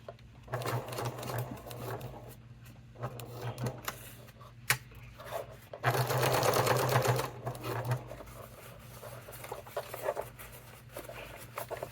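A sewing machine stitches a fabric wallet with the free arm removed, running in bursts of fast rhythmic clatter separated by brief pauses, with one longer, louder run in the middle.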